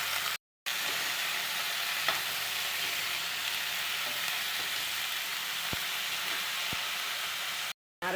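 Ground coconut and spice paste with ginger, garlic, cumin, fennel, cinnamon, clove and cardamom goes into a hot pan of potato, cauliflower and onion, giving a steady close sizzle with faint stirring scrapes and no talk.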